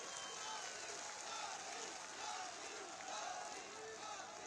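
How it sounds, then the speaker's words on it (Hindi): Crowd at an election campaign rally in Ahore, Jalore district, Rajasthan, applauding steadily to welcome a chief minister, a dense continuous wash of clapping and cheering at even loudness, with some voices mixed in. "मुख्यमंत्री श्री आदित्य योगी नाथ जी का आप एक बार जोरदार ताली बजाकर स्वागत करें।"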